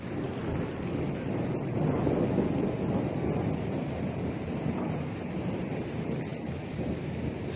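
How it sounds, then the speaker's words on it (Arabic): Steady roaring rush of water from a village waterfall, broad and continuous like heavy rain, close to the microphone with no talk over it. "شلالات العزبة"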